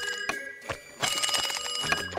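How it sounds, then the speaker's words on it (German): A cartoon telephone rings in a SpongeBob episode, with bright electronic bell tones coming in repeated bursts that fill the clip, loud and alone without talk. "Direkt danach klingelt das Telefon"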